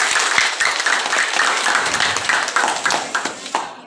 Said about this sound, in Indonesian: tepuk tangan buat ini semua.